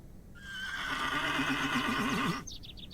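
A horse whinnies loudly and shrilly for about two seconds in the video game The Excavation of Hob's Barrow, its voice wavering and rising, with a brief fainter snort or rustle after it ends.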